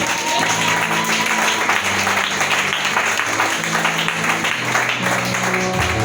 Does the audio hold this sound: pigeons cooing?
no